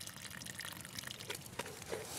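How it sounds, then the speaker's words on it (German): About a decilitre of water is poured into a salt dough made with egg, giving faint, close trickling and splashing with a few small drips. "Und dann tun wir hier noch gut so ein Dezi Wasser dran."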